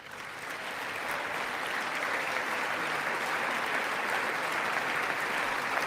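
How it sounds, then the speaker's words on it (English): Audience applause during a Trump political address, a dense, steady wash of clapping that swells in the first second and holds loud and even without talk. "He's even getting applause for his first time."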